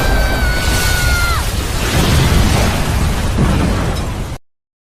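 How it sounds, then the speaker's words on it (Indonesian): A huge explosion in a kung fu film, a loud, sustained roaring blast with rumbling debris that fills the whole clip before cutting off abruptly. "terjadilah ledakan yang sangat besar di tempat itu."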